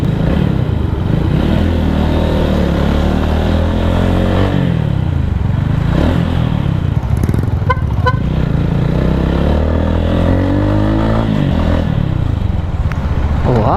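A Honda Titan 250 FI motorcycle being ridden on the road, its engine droning loud and close with rising and falling revs through gear changes, mixed with surrounding traffic and a brief horn toot.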